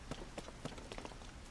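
Light, steady rain patters in Zelda: Tears of the Kingdom, a soft wash of drops with a few brighter taps, faint and close, with no voices.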